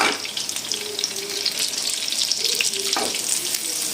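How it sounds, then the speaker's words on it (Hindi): Chicken gola kabab frying in a pan, a steady close sizzle with watery hissing and light stirring, no talk over it. "इसको फ्राई करते हुए मैंने 4 मिनट हो गए हैं"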